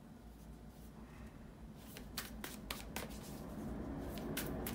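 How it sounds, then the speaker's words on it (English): Tarot cards being shuffled by hand, soft riffling and slapping in short bursts over a steady low background hum, close but fairly quiet. "to shuffle the tarot cards"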